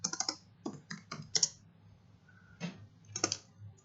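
Bursts of typing on a computer keyboard, close and crisp, several quick runs of clicking keys separated by short pauses, with no talking.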